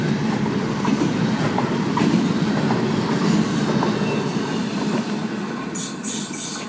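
A CN freight train hauled by old locomotives rolls past on the tracks at Abbotsford, British Columbia, a loud steady rumble of wagons with rhythmic wheel clatter and a brief high squeal near the end.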